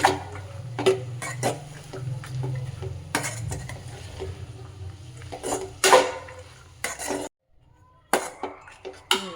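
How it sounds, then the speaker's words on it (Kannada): A spoon scrapes and clinks against a cooking pot while cowpea curry is stirred, irregular metallic knocks and scrapes over a low simmering bubble, with a brief pause near the end. "ಅಲ್ಲಿ ತನಕ ನಾವು ಈ ಥರ ಸ್ಟೇರ್ ಮಾಡ್ಕೋಬೇಕು"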